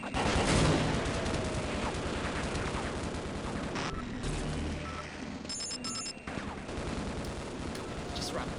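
Automatic turret gunfire in a Half-Life style shooter game, a dense continuous rattle of rapid shots with brief gaps and beeping tones, loud and close with mild voice-like texture mixed in.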